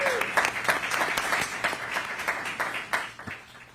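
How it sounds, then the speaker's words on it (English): Audience at a school board meeting applauding the Teacher and Classified Employees of the Year, a dense round of clapping from a moderate-sized crowd, fading out near the end. "Let's give them one more round of applause."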